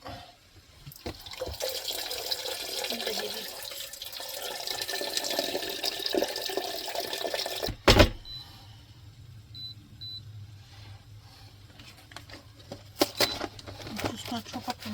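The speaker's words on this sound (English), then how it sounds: "Add the sachet of 500 ml of warm water." Warm water from a 500 ml measure pours into a pan for a chicken mince and noodle dish, a steady splashing pour for several seconds, then a sharp clatter and quieter kitchen sounds with faint drips.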